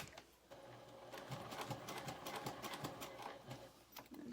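A sewing machine top stitches through the zipper of a fabric zipper pouch, running slowly with soft rapid needle clatter in short bursts, quiet and close.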